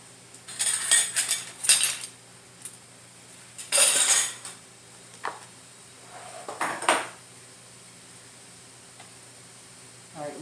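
Metal canning jar lids, regular and wide mouth, are handled for canning chicken noodle soup, making bursts of bright metallic clinks and rattles close by, separated by quiet pauses.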